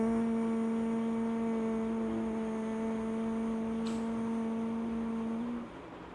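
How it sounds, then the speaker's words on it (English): A steady low hum held for about five and a half seconds on a long exhalation as a breathing exercise for calming anxiety, with a faint overtone, then trailing off near the end; no talking over it. "Exhaling, make a humming sound."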